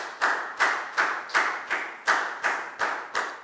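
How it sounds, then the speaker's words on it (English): A class clapping for a pupil during a Year 4 English lesson: about eight sharp, evenly spaced claps in a steady rhythm, each with a short ringing decay, loud and close, with no talk. "Big round of applause for Nadia for remembering very well."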